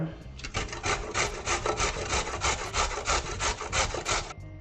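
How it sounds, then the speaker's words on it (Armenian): A carrot is grated by hand, giving a close, loud, rhythmic rasping of about a dozen even strokes scraping back and forth against the grater. "այժմ քերում ենք գազարը"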